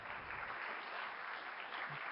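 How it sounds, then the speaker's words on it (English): Applause from a crowd at an Ignite talk event for the presenters, a faint, steady wash of many hands clapping heard from some distance for a couple of seconds. "Please give them a huge round of applause"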